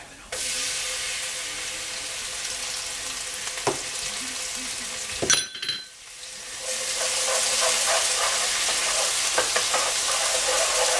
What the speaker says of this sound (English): our onions are browning. So now to that, we're going to add our garlic